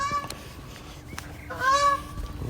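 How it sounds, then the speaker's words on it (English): Geese honk repeatedly at moderate distance, with a louder cluster of calls near the end over faint outdoor background. "Listen to them geese."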